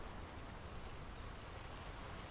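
Steady rain falls in the video game Draugen: a dense, even wash of drops that stays constant and close throughout, with no voices over it.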